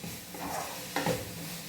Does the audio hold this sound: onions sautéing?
yes